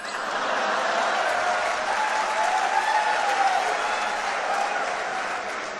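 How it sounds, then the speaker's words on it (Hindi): Steady audience applause at a Hindi comedy show, dense and sustained across the whole stretch, with faint laughter and murmuring mixed into the clapping. "व्यंग पर तालियां तो अब आपकी अब उठेंगी"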